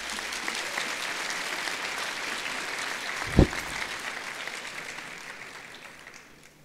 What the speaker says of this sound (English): graduates, I think you can give them a round of applause